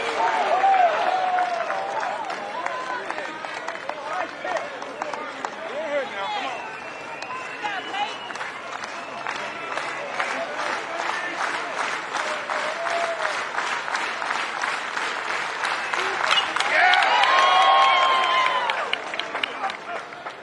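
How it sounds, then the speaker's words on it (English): Stadium crowd at an NCAA college baseball tournament game between UConn and Oklahoma State cheering and applauding, a steady roar of claps and shouts that swells louder near the end. "You hear the crowd"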